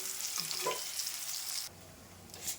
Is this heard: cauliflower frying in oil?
yes